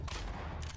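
A single gunshot fired for a headshot in the horror shooter The Bornless, a loud sharp crack with a sustained booming tail, alone with no talk.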